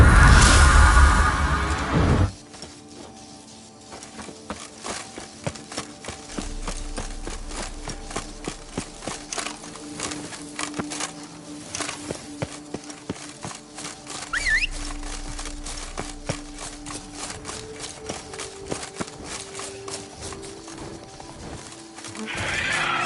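In The Witcher 3's Blood and Wine, Roach the horse gallops with rapid, close hoofbeats and lets out a loud neigh near the start, the running continuing steadily with game ambience behind.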